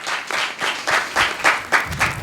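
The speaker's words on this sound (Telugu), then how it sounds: "just give claps to the lord Jesus Christ" A congregation at a church service claps for the Lord in a quick rhythmic run of about eight beats, close and fairly loud, with no voices over it.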